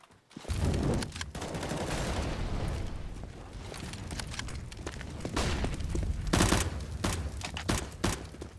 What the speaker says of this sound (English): Crizzen and Bissmire, the drive-by headshots